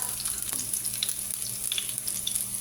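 Onions fry in a hot pan with a continuous close sizzle and scattered bright crackles, over a leftover-fish dish being cooked at home.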